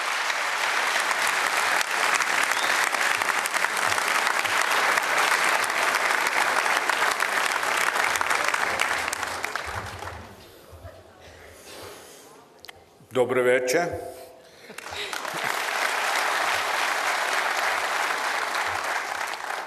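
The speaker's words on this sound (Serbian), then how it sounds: "Pozdravimo ga aplauzom." Audience applause at a party anniversary celebration in Smederevo welcoming a former Austrian chancellor, a long loud sustained ovation that fades into a quiet hall, then a brief spoken greeting before the clapping swells again.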